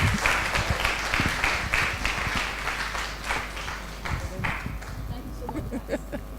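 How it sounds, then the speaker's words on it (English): Conference attendees at a women in journalism event applaud a speaker, a moderately loud stretch of crowd clapping that thins out toward the end, with some voices underneath. "Please, a round of applause for Nelly once again."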